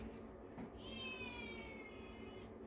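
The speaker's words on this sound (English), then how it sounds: "I can hear my kitty cat outside my door." A single drawn-out cat meow, faint and somewhat distant, over a steady background hiss.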